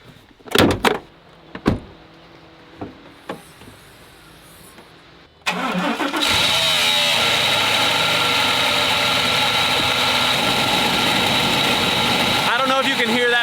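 A faulty pickup truck engine starts after a few door clunks and clicks, then idles loudly and steadily close by with a rough, noisy drone for several seconds before a brief louder burst near the end.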